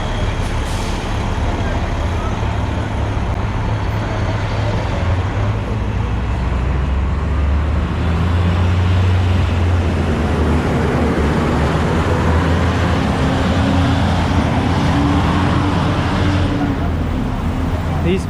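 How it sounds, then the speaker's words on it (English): Heavy city bus engines rumble and idle nearby amid continuous street traffic on New York's Fifth Avenue, with a drawn-out whine of an engine shifting and faint voices underneath. "These buses do make a lot of noise, I tell you."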